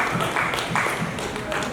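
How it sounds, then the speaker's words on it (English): An audience at a Seattle city attorney candidate event claps in a steady, dense wash of many hands, with voices mixed in underneath. "Yeah, we can clap for that."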